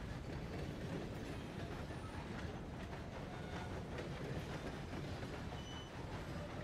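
A train rolls steadily along its tracks in a video game, with a dense, continuous rumble that stays even and fairly quiet throughout, and no voices over it.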